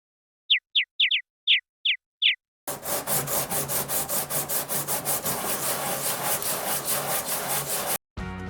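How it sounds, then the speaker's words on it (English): Short squeaky chirps at first, then steady rhythmic abrasive rasping strokes, close and fairly loud, as fine-grit sandpaper levels the base of air-dry clay bottle holders. "I sanded the bottom of both polished bottle holders to get a level base."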